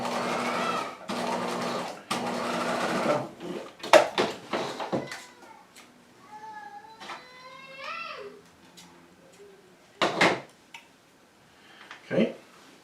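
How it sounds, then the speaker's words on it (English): A sewing machine understitches a curved seam on lining fabric for a set-in pant pocket, giving short close whirring bursts at the start and again near the end, with a person speaking in between. "since this is a curved seam, you're stitching, or understitching, you want to make sure you're pulling the fabric in the opposite direction"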